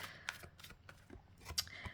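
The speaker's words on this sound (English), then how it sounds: "we're just going to shuffle that through." Tarot cards are shuffled by hand during a reading, with a quick series of soft, papery riffles and taps close up, quiet and brief with no talking.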